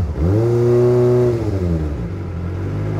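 A Kawasaki ZX-25R motorcycle engine with an MBR Tech F4FI unit holds a loud, steady high rev on launch control, then drops to a lower idle-like drone, close and on its own.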